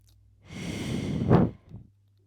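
A yoga instructor breathes audibly, a long soft inhale swelling into a louder, breathy exhale that fades out, close and alone with no talking.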